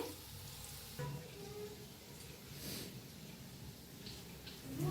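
Onion and chilli pakodas fry in hot oil with a steady, soft sizzle and bubbling that runs throughout, fairly faint and with no talking over it.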